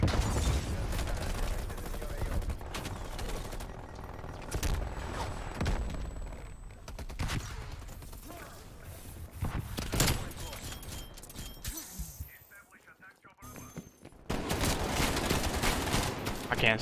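Bullfrog submachine gun in Call of Duty Cold War fires in rapid bursts among other gunfire and battle noise, near and loud, with a brief lull before heavy shooting resumes; a player talks over it.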